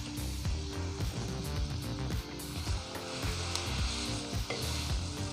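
Potato pieces frying with kalonji (nigella seeds) in a pan, a steady loud sizzle throughout with busy crackling and occasional stirring scrapes, no talking.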